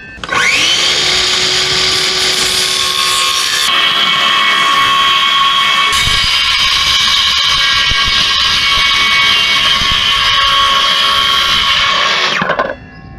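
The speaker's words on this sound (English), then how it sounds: "now I'm cutting a few pieces of plywood to make a box out of" A power saw cuts through plywood pieces for a homemade box, a loud continuous high whine running steadily for about twelve seconds with slight pitch shifts as the blade bites, then spinning down at the end.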